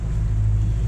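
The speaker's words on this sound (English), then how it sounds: "my ears are slowly gonna explode from these engines. The same noise all the time." Engines of a Lagoon 42 catamaran run at sea with a steady, low droning rumble that holds constant and close, with no voices over it.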